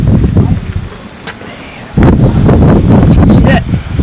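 Extreme tornado-warning winds of 70-90 mph batter the microphone in the St. Louis area near Alton, Illinois, a loud roaring buffet that eases briefly then surges back harder.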